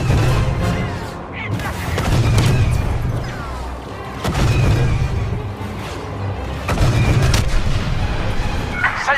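In the Star Wars Battlefront 2 video game, heavy blaster gunfire and booming explosions rumble almost continuously in loud surges during a battle, with voiced dialogue over the combat.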